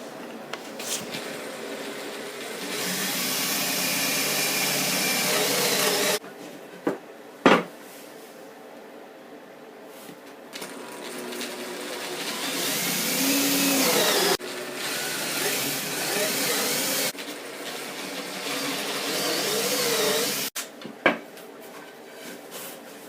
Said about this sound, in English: make sure that you try to drill them as straight as possible